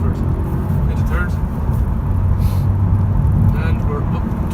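A 2019 Honda Civic Turbo Premium accelerates hard up through the gears toward the red line, its engine droning loudly and steadily from inside the cabin while someone talks over it.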